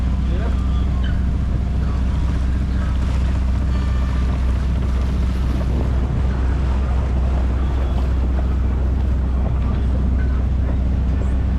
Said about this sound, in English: So this is the first set of rapids we'll be going through.